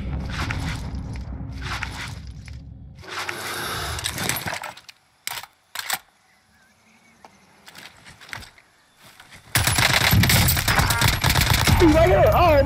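Enemy gunfire in a shooter game, bursts of rapid shots mixed with game noise, then near silence with a few isolated sharp hits, then a loud dense burst at the end, with a voice partly over it.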